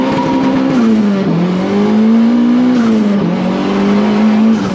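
Honda sports car engine revving, a loud sustained high-pitched drone whose pitch dips and climbs slightly throughout, heard alone with no talking.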